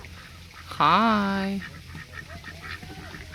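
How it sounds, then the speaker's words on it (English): A loud, nasal honking quack from a farm duck, a single drawn-out call close by, followed by quieter background calls while a person briefly speaks. "Over here they have the ducks."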